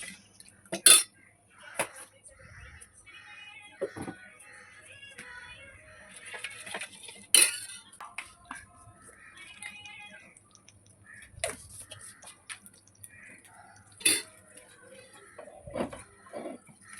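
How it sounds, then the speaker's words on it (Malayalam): Spoon clinks and scrapes against a bowl as rice batter is mixed with salt and coconut oil in a home kitchen, sounding as scattered, sharp, close taps with quiet gaps between them. "കുറച്ച് ഉപ്പും കൂടെ ഇട്ടൊന്ന് കലക്കി വെക്കാം."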